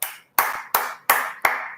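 A single person claps hands five times in a slow, even rhythm, each sharp clap ringing briefly in a small room, close and clear with no talking.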